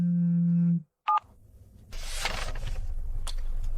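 A telephone dial tone holds steady, then a short higher keypad beep sounds before a brief pause, followed by a faint rushing line noise, all close and clear with no talking.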